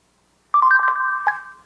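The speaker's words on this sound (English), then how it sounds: "So it quickly launches the camera and performs a countdown." A Moto X Pure Edition smartphone sounds its camera countdown as a short run of bright electronic beeps, close and clear against silence, lasting about a second.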